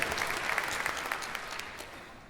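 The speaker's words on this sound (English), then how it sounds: "Give yourselves a clap, and the orchestra a clap, and a big clap for our kangaroo Leona." A short burst of audience applause for an orchestra at a children's concert, bright and dense at first, then thinning and fading away within a couple of seconds.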